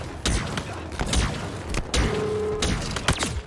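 Gunfire from Halo Infinite multiplayer, several sharp bursts and thumping shots spaced through a few seconds, loud and close, with faint game sounds between.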